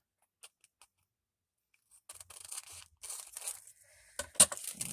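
Scissors cutting folded paper in half, a few faint snips and clicks first, then a longer run of crisp slicing and crinkling paper sounds, close and quiet.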